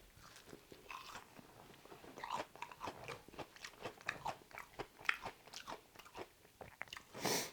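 Spicy BBQ Korean fried chicken with sauce being eaten up close, with repeated crisp bites and crunchy chewing in an irregular rhythm, fairly quiet and with no talking.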